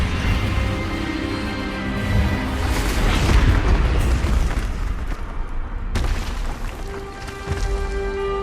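An Expelliarmus spell is cast during a duel in Hogwarts Legacy, a loud booming magical blast that swells through the middle and then gives way to a sharper crack and lingering tonal hum.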